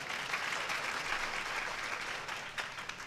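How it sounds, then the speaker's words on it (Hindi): An audience at a Hindu Ram Katha religious discourse applauds softly, a faint, steady wash of many hands clapping without any voices. "ताली कमजोर है, इसका मतलब आप सहमत नहीं हैं।"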